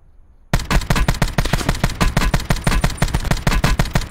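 Loud, close automatic gunfire from Call of Duty Blackout rattles in a steady rapid stream of shots after a brief silent start, without talk.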